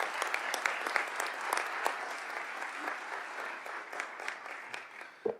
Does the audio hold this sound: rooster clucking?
no